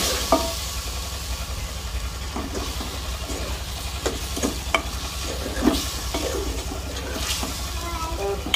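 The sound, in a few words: mutton liver frying with salt in a pan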